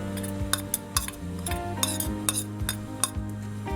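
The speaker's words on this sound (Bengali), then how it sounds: "এরপর আমি এর মধ্যে দিয়ে দেবো যে আদাগুলো আমি কেটে রেখেছিলাম" Spatula scraping and clinking against a pan as chopped ginger goes in while cooking chilli paneer, with a repeated metallic tapping rhythm over a steady backing of music.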